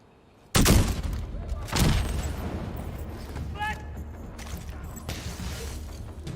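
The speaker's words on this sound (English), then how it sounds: "the dude just keeps getting hit by like explosives" Explosives bursting on an enemy in The Division 2 video game: two heavy booming blasts close together, then rumbling combat noise and scattered mechanical clatter, loud and near.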